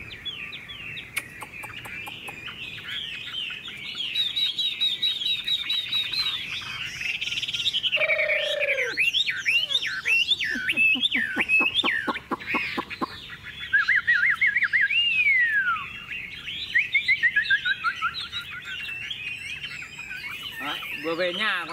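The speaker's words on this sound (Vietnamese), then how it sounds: "Em bật giọng chim đực cho nó đấu luôn nhé các bác nhá." A Chinese hwamei songbird sings loud, varied whistling phrases in a sustained duet-like contest against a played recording of a male hwamei's call, rapid trills and slurred notes overlapping with sharp chirps throughout.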